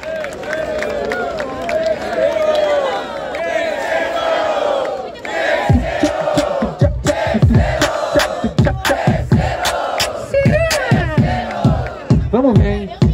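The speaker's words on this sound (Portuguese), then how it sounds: "Palmas e palmas pros MC" Rap battle crowd roaring, shouting and cheering for the MCs, a dense loud chant that swells into rhythmic clapping and whoops in the second half.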